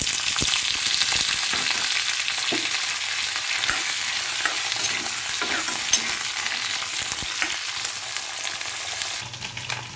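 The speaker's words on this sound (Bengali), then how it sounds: "এইবার ওই তেলে কেটে রাখা আলুগুলো ফ্রাই করে নেব" Cut potatoes fry in hot oil in a pan, a dense continuous sizzle with occasional stirring scrapes, steady and close throughout with no talk.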